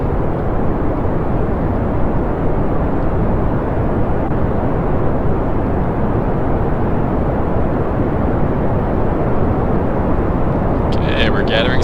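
Roaring rocket engine from the game Kerbal Space Program, a steady loud broadband thrust rumble that runs unbroken throughout, with brief high crackles near the end.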